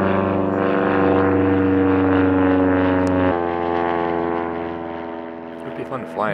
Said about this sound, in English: Love seeing the planes fly overhead.